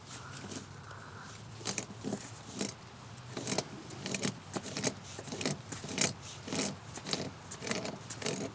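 Metal pliers grip and work a stuck garden hose coupling loose from an outside faucet, giving a run of scraping, clinking and rattling bursts at close range with no talk.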